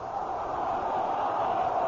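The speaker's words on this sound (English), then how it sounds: "Listen to this crowd." Crowd at a Pirates baseball game against the Expos roaring steadily in the ninth inning, a broad sustained wash of cheering that holds loud and even throughout.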